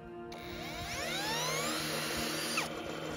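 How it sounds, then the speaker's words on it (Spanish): A cordless battery drill spins a generator on a so-called free-energy engine rig, giving a steady close whine with rising and sweeping tones as the drive speeds up, fairly quiet and with no talk. "Y con un taladro de batería, damos un movimiento inicial al sistema."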